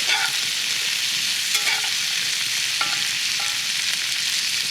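Potatoes frying in a cast iron pan over a campfire give a steady, close sizzle, broken by a few scraping stirs and faint clinks.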